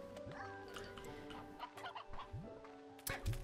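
Video game chickens in Slime Rancher 2 cluck and gobble in short repeated bursts, several overlapping calls close by, with a sharper squawk near the end.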